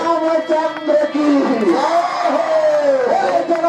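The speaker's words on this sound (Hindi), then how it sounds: "एक बार जोरदार तालियां बजाते हुए राजा रामचंद्र जी के नाम का जयकारा लगाएंगे आप लोग" Crowd cheering and chanting a victory cry for King Ramachandra at a Ram coronation staging, a loud and sustained mass of voices with rising shouts, heard close.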